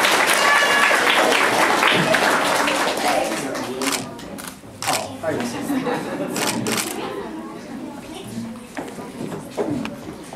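Audience applause at a children's poetry and literature award ceremony, dense clapping at first that thins into scattered claps and fades out, with some speech mixed in.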